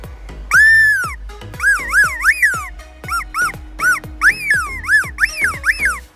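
A Hunters Specialties squirrel call, blown by breathing in, imitates a squirrel's distress call: shrill, squeaky rising-and-falling squeals in quick bursts, loud and close with brief pauses between.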